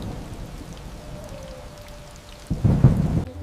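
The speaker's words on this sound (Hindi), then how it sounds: "इतने में ही वर्षा हो गई, आंधी तूफान आया" A rainstorm with thunder in an animated story: steady rain patters in the background, then a deep rumble of thunder swells loudly near the end. No one speaks.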